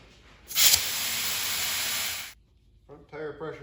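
Air hisses loudly into a tractor tire through its valve with the core back in, a close, steady rush of about two seconds that starts with a sharp burst and cuts off abruptly, followed by someone speaking briefly.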